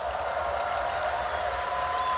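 An arena crowd at a Counter-Strike showmatch at the PGL Major in Kraków roars and cheers in a steady, dense wash of noise that holds at an even level throughout, with no distinct voices standing out.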